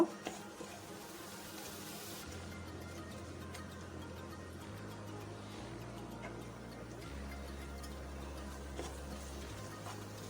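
Chopped onion and dried chili frying in hot oil for a taro-stem and prawn curry, a steady faint sizzle with a low hum beneath and no talking.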